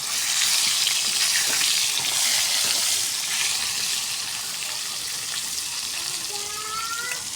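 Pointed gourd (potol) sizzling and frying in hot oil, a steady loud crackle and hiss that eases slightly as it goes on, heard close up with no talking.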